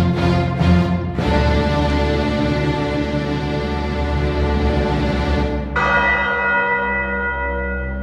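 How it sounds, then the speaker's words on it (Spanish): A large cathedral bell tolls in long ringing strokes, several quick strikes at first and then a sustained resonant hum with a fresh strike near the end, loud and close with no voices. "la campana de la catedral sonó"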